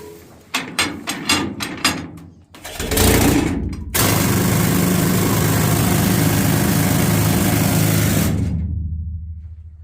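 A pneumatic rock drill in a gold mine hammers with a rapid pounding roar that drowns everything for several seconds, after a few sharp bursts and a short hissing blast.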